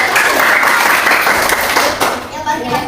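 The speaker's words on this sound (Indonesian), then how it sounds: "Tepuk tangan dulu, jadi semuanya." A group of children in a classroom claps loudly together, a dense burst of applause that fades slightly toward the end.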